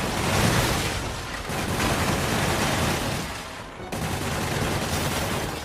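Dense, continuous gunfire and explosions from a Spider-Man video game, loud and close with sustained rapid bursts and no talk.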